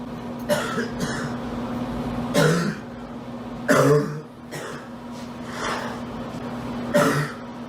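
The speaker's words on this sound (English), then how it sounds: "It's a very unique cough." Several rough coughs and throat-clearing bursts come at irregular intervals over a steady background hum, close by.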